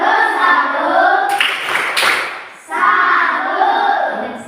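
Classroom of children doing a salute clapping chant, with a burst of rhythmic hand claps between stretches of voices chanting in unison, all close and lively.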